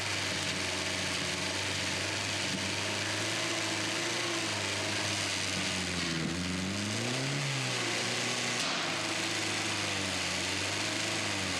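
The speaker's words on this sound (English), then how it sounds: "The engine's running smoothly with no issues." An old Coca-Cola truck, freshly restored, idles steadily with a low, even engine drone that holds close and constant throughout, with a brief pitch wobble midway.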